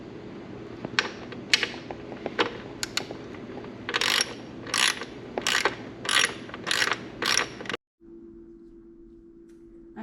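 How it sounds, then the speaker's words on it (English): A ratchet tightens the four 10mm bolts on a motorcycle luggage trunk mount, with separate clicks at first, then repeated bursts of rapid ratcheting, close and clear, ending in a low steady hum. "Now I'm going to tighten the 4 10mm bolts."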